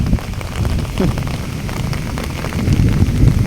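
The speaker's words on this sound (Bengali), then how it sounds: "এত ভারী বৃষ্টি হচ্ছে।" Loud, steady downpour of heavy rain drumming on surfaces in Dhaka, with flooded rooftop and knee-deep water on the streets, a dense continuous roar with no speech.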